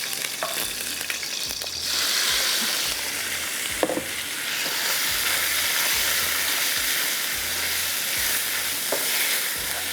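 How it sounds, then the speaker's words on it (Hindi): Garlic frying in a pan for a fried chicken recipe, a steady loud sizzle and hiss with occasional stirring scrapes and clinks, continuous throughout. "लहसुन फ्राई हुआ"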